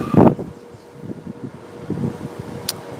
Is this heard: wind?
yes